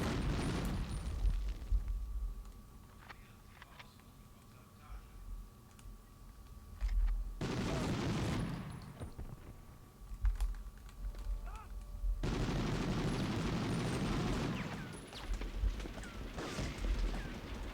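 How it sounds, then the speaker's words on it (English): Enemy soldier gunfire in the PlayStation Medal of Honor game comes as loud bursts of shots and blasts over a noisy battlefield, with quieter stretches between them. "Now he's shooting us."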